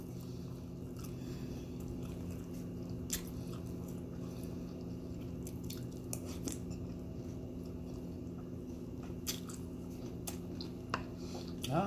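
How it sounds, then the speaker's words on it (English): Close, wet chewing of a bacon, egg, sausage and cheese McMuffin, with soft crunches and squishy bites scattered over a steady background hum and no speech. "I can chew on this side."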